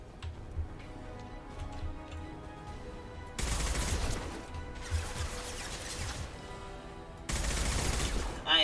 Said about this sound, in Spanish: voy a ir con el fusil de asalto